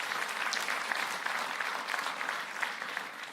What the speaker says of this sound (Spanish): De un aplauso fuerte a Dios.